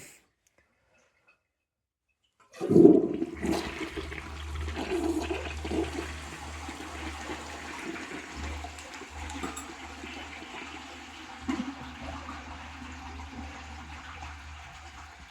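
A yellow 1977 Briggs Abingdon toilet on a test stand flushes after a few seconds of silence, opening with a loud rushing whoosh that settles into a long, softer draining and refilling trickle.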